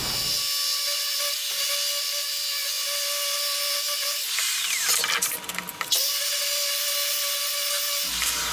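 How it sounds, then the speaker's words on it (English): A power drill bores drainage holes through the wooden bottom of a wood and metal planter, giving a steady high whine with one short pause and a rougher burst of cutting in the middle. "get some drainage holes drilled into the bottom of"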